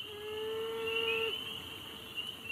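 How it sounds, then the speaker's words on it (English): A male beaver whose dam was destroyed gives a long, drawn-out whining cry, a steady nasal tone that slides downward before breaking off, over a constant high insect drone. "This is the sound of a male beaver mourning its lost family after their dam was destroyed."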